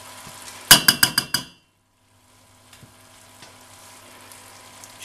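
Beef, courgettes and tomato tapenade stirred in a pan: a quick run of five sharp clattering scrapes, close and loud, then near silence with faint scattered clicks.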